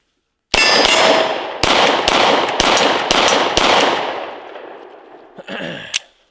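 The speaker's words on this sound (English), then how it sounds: "Kiger 9 might be one of my new favorite pistols to shoot" Kiger 9 9mm pistol firing at an outdoor range: five loud, sharp shots spaced about a second apart, each followed by a ringing metallic clang from steel targets. The ringing fades out, then faint knocks follow.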